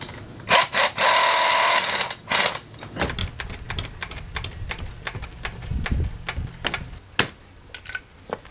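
An impact wrench on a non-impact socket during a Mazda Miata coilover install lets out a loud sustained burst of rattling hammering, followed by a series of sharp clicking and tapping impacts, close and with no talking.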